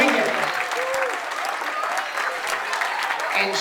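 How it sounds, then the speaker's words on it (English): A wedding reception crowd at a Rhode Island country club applauds the groom's grandmother, a steady wash of clapping throughout, with a host's voice faintly over it near the start and end. "How about a big round of applause for the grandmother of the groom, Mrs. Virginia Wiggin."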